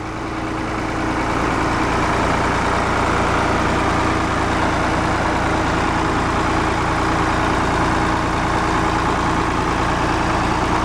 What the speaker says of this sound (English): All right, that's both tractors sitting here running.